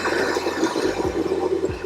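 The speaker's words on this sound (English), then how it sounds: "I'm going to put the celery in." Celery pieces dropped into a pot of boiling water for a caponata, giving a steady rushing, bubbling water sound with a few brief splashes and plops, fairly close and alone.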